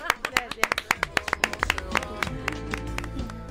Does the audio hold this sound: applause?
yes